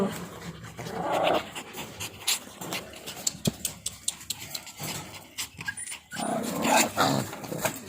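A dog panting nearby, with quick rhythmic breaths coming in bursts and a few brief whimpers or growls amid household bustle.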